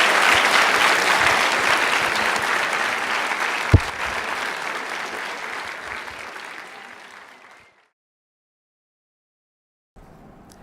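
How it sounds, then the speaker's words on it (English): A crowd applauds loudly, the clapping slowly fading out to silence after about seven seconds. "Let's give a round of applause."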